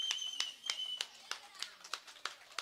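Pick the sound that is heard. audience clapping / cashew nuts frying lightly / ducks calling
audience clapping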